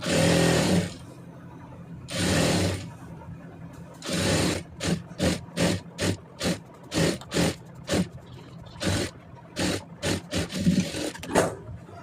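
A sewing machine stitches a blouse in short repeated bursts of whirring, first a few longer runs then many quick evenly spaced spurts, close and fairly loud.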